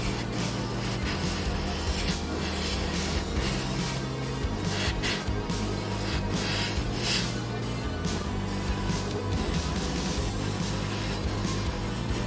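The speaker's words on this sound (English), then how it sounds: "spray the surface so that the surface is moist and wet" Steady hissing spray of clear coat from an aerosol can onto a 1/24 plastic model car body runs continuously, close and fairly loud, with a faint hum underneath.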